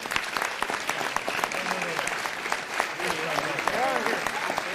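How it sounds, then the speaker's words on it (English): An audience at a city council meeting gives a steady round of applause for a girls' under-14 soccer academy team and its coach. The dense clapping carries on throughout, with a few voices heard underneath. "All right, give him a nice round of applause."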